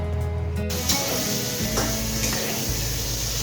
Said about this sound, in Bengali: বাঁধাকপি আলু কাটি আমি ভাজছি